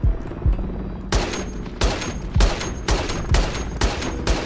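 A weapon in a video game fires in rapid bursts, each shot loud and close with a booming low end, repeating about every half second with no pause.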